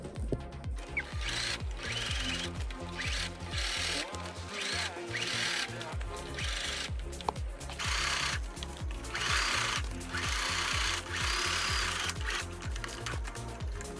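A sewing machine stitches gardening fabric for a plant pot, a fast, steady mechanical chatter running in short bursts with brief pauses, close and alone.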